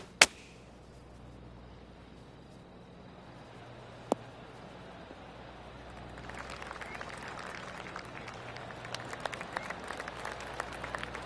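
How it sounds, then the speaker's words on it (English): A quiet hum gives way to a soft, sustained patter of golf crowd clapping in a golf video game, building in the second half, with a couple of sharp clicks earlier. "Oh, golf clap. That's a beauty."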